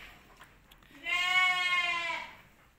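A Batur sheep at a livestock sale lets out one loud, nearby bleat lasting about a second and a half, with a few faint background sounds just before it.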